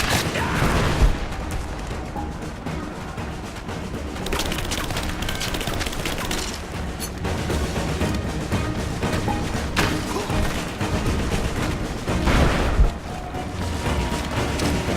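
Sustained combat in Rise of the Tomb Raider, a dense wash of gunfire, booms and splintering impacts lasting throughout, loud and continuous with occasional heavier hits.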